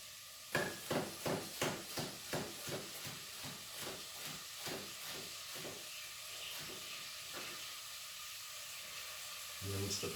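Onions softening in a hot pan give a close, steady sizzling hiss, with a run of rhythmic stirring or scraping pulses at the start that fade into a continuous fry, ending in a brief louder burst.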